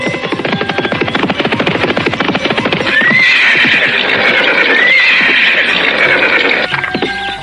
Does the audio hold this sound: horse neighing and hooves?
yes